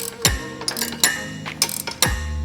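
A ratchet socket wrench tightening a lock nut while converting a Youth SRV bike trainer to a Varsity model: several short, loud metallic ratcheting bursts, each a rapid run of clicks, close up.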